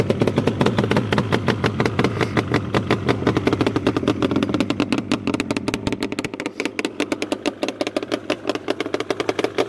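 A 1996 Yamaha Banshee idles while warming up in the cold, its two-stroke engine putting out a steady, close, loud rhythmic putter that becomes choppier and more uneven toward the end.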